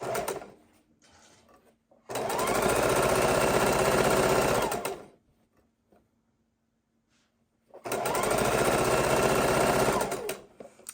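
A sewing machine stitches down the edge of a baby quilt in two sustained, even bursts of rapid needle whirring, separated by a quiet pause, close and clear.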